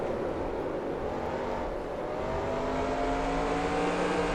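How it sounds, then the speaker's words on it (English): A stock car engine in NASCAR Racing 2003 at Five Flags Speedway roars steadily, its pitch climbing gradually as the throttle opens and the car accelerates, loud and continuous throughout. "Oh, I love it when that throttle kicks in."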